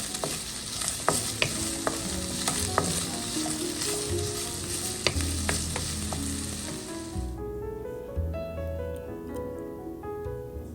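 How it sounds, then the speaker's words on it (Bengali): Small potato pieces fry in oil in a pan, a loud crackling sizzle with sharp pops and stirring scrapes that drops away to quieter clinks and a low simmer near the end. "ছোট টুকরো টুকরো করে আলু কেটে নিলাম, এটা ভেজে নেব তেলের উপরে"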